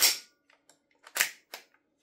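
A Lambda Defence B&T GHM9-G gas blowback airsoft gun fires BBs in a few sharp, quiet cracks with short gaps between them, close by and otherwise silent.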